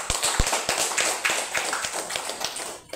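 A classroom audience at an elementary school gives its teacher a round of applause: a dense patter of many hands clapping at once, steady for about three seconds before thinning out at the end, with no talk over it.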